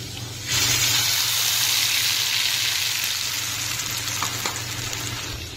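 Pabda fish dropped into hot oil bursts into a loud, dense sizzle that starts abruptly and then holds steady, slowly easing off, heard close with no speech.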